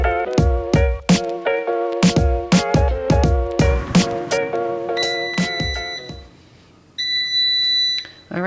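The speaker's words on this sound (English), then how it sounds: "That beep means it's been a full 10 minutes." Electronic beeps from an air fryer timer cooking frozen fish, several repeated tones in quick succession followed by a sustained higher beep, close and clear.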